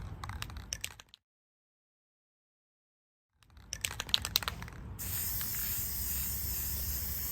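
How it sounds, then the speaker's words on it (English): Spray primer hisses onto an antique cast iron Singer sewing machine base amid rattling bursts, breaking off into a few seconds of silence before a steady, loud continuous spray resumes. "right now I'm priming the base"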